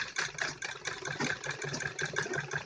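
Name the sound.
sewing machine stitching net cloth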